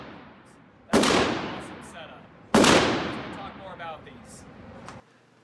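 Two sharp, loud gunshots about a second and a half apart, each with a decaying echo tail, from a 12 gauge shotgun firing .22LR rounds through a Short Lane sub-caliber adapter outdoors.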